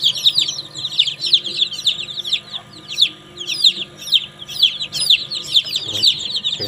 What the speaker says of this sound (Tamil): சுத்தமான கருங்கோழி குஞ்சுகள்